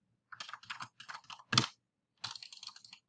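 Close typing on a computer keyboard, a quick run of light clicks in short bursts, one louder key strike, a pause, then another burst.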